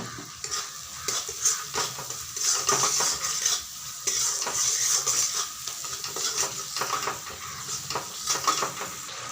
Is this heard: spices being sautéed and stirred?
yes